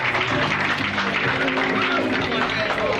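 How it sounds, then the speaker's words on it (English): Audience applause at an evening event, a steady, dense roar of clapping and crowd noise filling the room, with some voices mixed in throughout. "Let's give them a round of applause"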